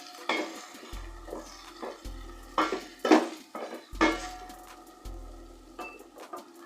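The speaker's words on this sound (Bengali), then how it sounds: "হলুদের গুঁড়ো 1 চা চামচ, দিয়ে জলপাই কুচির সাথে মিশিয়ে নেড়ে দেব।" Chopped olives and turmeric powder for a sweet and sour pickle are stirred in a pot, a spoon scraping and clinking against the metal in several distinct strokes over a soft background hiss.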